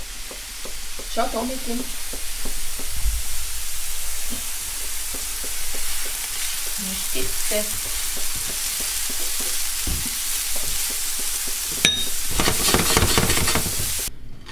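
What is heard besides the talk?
stirring leeks frying in a pan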